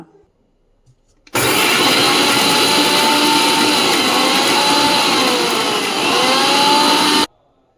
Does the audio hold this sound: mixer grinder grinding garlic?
yes